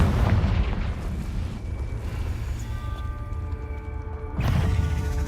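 A Confringo blasting spell goes off in Hogwarts Legacy, a loud booming burst at the start. A sustained rumbling tail with ringing tones follows, and a second heavy blast hits near the end.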